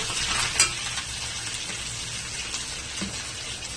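Curry leaves fry in hot oil for a tempering, giving a loud continuous crackling sizzle close by with a few faint clinks of a utensil, and no voices.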